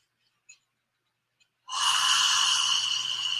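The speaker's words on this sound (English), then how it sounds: "hold at the top, exhale, nice and long and audible" Slow audible breathwork breathing during a guided meditation: after two faint breath sounds, a long, steady, airy exhale starts and carries loudly and evenly to the end, close and alone.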